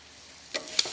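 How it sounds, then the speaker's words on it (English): Calamari searing in a hot pan: after a quiet moment, crisp sizzling bursts and a few sharp ticking crackles rise close by, with no talking. "now we're getting a nice sear"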